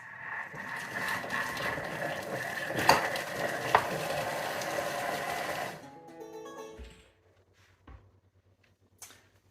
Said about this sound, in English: we're turning the speed selector to speed 5. And that's just to chop up the onion that has been sauteing in there for the last 3 minutes